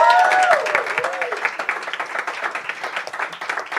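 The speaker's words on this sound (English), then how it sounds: "So can you clap again just so he can hear who's in the room?" Audience applause fills a room at a panel event on political prisoners, with dense, steady clapping from many hands throughout and a few brief voices cutting through at the start.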